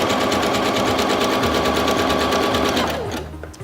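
A Singer Featherweight C240 sewing machine stitching at its lowest speed, a close, steady mechanical whirring with rapid rhythmic needle clatter that winds down and stops near the end.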